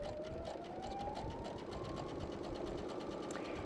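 A Brother PS500 sewing machine runs a steady stitching pattern, its fast, even mechanical whir close and continuous with no voices.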